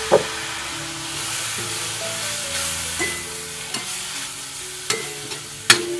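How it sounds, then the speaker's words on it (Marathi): Ground spice masala sautés with a splash of water in a pan, a steady hiss and bubble under repeated scraping stirs and sharp utensil knocks against the metal. "थोडासा ना भांड्यात पाणी घालून ना आपण थोडा मसाला परतून घ्यायचा"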